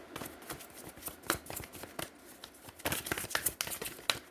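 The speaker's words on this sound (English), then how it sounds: "Okay, one more shuffle." A deck of tarot cards is riffled and shuffled by hand at close range, crisp papery flicks and snaps in uneven bursts throughout.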